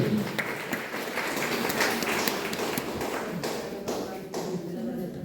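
A church congregation clapping hands in a sustained patter of many claps, moderately distant, with speech mixed in.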